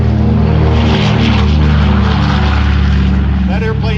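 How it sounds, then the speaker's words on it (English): World War II airplane That's All Brother of the Commemorative Air Force running its engines at an airshow, a loud continuous propeller drone that fills the whole moment while a voice speaks over it. "That airplane right there, ladies and gentlemen, is That's All Brother, part of the Commemorative Air Force."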